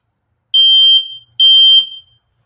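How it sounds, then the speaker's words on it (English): Two loud, piercing electronic beeps from a smoke alarm being tested, each about half a second long, separated by a brief pause. "So smoke detector works well"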